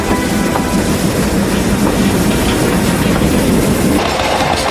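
Train on the Hejaz Railway rumbling steadily, a loud continuous roar of wheels and cars with a faint clickety-clack texture, close and unbroken throughout.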